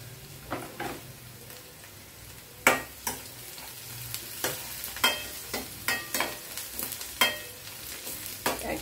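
Carrot and other vegetables fry in oil in a pan while making Maggi, a soft steady sizzle broken by repeated sharp scraping clinks of a spoon stirring, close and clear.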